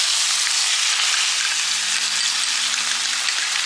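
A Wagyu ribeye steak fries in a hot pan, cowboy style, with a loud, continuous close-up sizzle and crackle that stays dense and even throughout.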